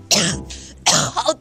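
A person in a period Chinese TV drama coughs in two harsh, throaty bursts, close and loud, separated by a short pause with a slight rasp of throat clearing.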